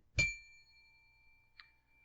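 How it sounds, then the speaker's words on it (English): A single bright bell ding rings out, clear and resonant, then fades into quiet, followed by a second, softer, shorter ding about a second and a half later. "I will employ what I have called the inappropriate bell."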